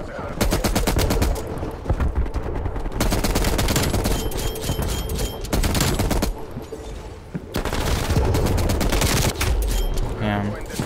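An M60 machine gun in a video game fires from the hip in long, loud, rapid bursts, several sustained strings of shots separated by short pauses.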